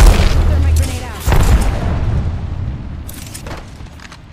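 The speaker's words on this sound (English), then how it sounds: "Throw my grenade out." A grenade thrown in a video game goes off with a loud, deep boom, followed by a second blast and a long rumbling decay that fades away.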